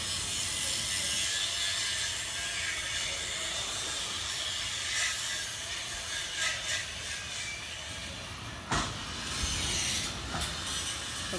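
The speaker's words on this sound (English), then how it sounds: "I'm going to leave you with that welding sound." Welding at a construction site, a steady loud hissing crackle that runs throughout with a few sharper pops and bursts.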